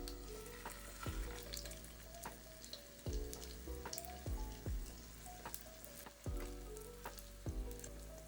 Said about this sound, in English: I'm using bacon grease to fry my Salisbury steaks in